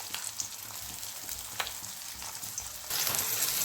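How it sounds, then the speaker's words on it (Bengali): A single piece of bata fish coated in spice paste fries in a karahi, giving a steady, close crackling sizzle that swells louder near the end, with no talking. "যেহেতু এক পিস ভাজছি তাই কড়াইতে দিয়েছি।"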